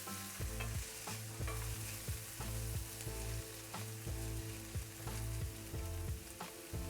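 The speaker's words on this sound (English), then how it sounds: "And now we're properly sauteing these vegetables." Vegetables saute in hot oil in a pan for a leftover Thanksgiving stew, a steady close sizzle punctuated by repeated rhythmic scrapes and knocks of a utensil stirring against the pan.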